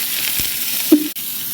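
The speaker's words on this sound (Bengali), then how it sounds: "দেখেন এই হাঁড়ির মধ্যে এখন পেঁয়াজ কুচি করে রাখা দিয়ে দিলাম" Chopped onions hitting hot oil in a cooking pot, a short, loud crackling sizzle with a brief thump and scrape of stirring partway through.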